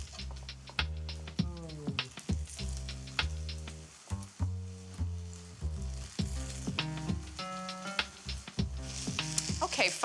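Batch of polenta frying crisp in a pan, a steady sizzle running beneath prominent tonal music throughout.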